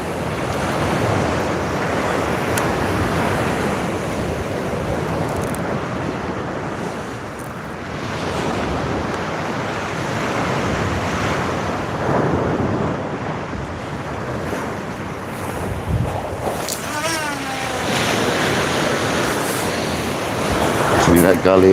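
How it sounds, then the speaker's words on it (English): Steady wind at sea roars across the microphone during a kayak fishing trip, with broadband surf and water noise throughout and a brief gust swelling near the end; a voice speaks at points over it. "Wind's dying down like it's forecasting"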